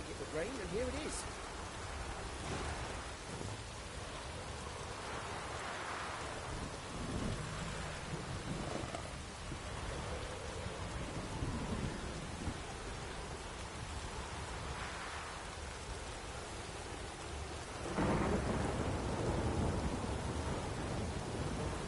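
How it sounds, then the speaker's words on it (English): Steady rain pours throughout while thunder rumbles several times in The Witcher 3, one loud crack near the end; a voice speaks briefly underneath. "Looked like it would rain, and here it is."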